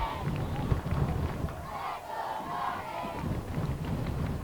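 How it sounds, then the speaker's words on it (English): Crowd in the stands at a high school boys soccer match, Norton Lancers against Douglas Tigers, roars and shouts in a sustained, fairly distant swell with rumbling foot noise underneath. "Any cheer, or anytime Norton does something good, the press box and the stands start shaking, as they're doing now."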